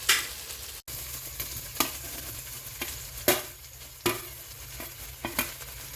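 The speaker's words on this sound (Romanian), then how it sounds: "las puțin să se prăjească un pic, după care voi adăuga smântâna" Pieces of chicken, onion and mushrooms frying in a pan, a soft steady sizzle punctuated by several sharp stirring scrapes and clacks at irregular intervals, fairly quiet and without speech.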